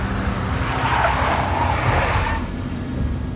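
A big black Mercedes in a Max Payne video game cutscene skids loudly, its tires squealing in a broad, sustained rush over a low engine rumble. The squeal eases off near the end, and no one speaks.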